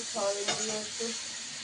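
Potatoes fry in a pan with a soft, brief sizzle and light stirring, quiet and close, with faint traces of a voice in the background.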